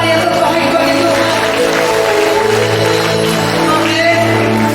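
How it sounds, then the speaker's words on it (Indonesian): Church congregation at a Christmas service in Mojokerto clapping together, a steady wash of applause mixed with cheers and whoops over sustained music, loud and continuous throughout. "Boleh kita beri tepuk tangan yang terbaik bagi Tuhan"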